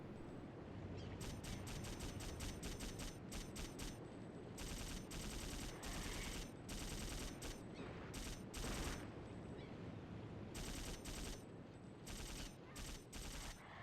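Dual-wielded submachine guns firing in Dino Crisis 2 at pterodactyls overhead, long dense bursts of rapid automatic fire broken by short pauses, loud and continuous with no talking.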